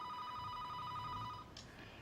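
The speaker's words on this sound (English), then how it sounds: "Your telephone is ringing." A telephone rings indoors with a steady electronic trill, a repeating warbling tone that runs for about a second and a half and then cuts off, leaving quiet room tone.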